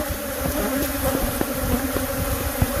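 Honey bees swarm and buzz around a hive built inside an RV, a steady dense hum from many insects close by, with a few louder passes standing out against the continuous drone and no talking.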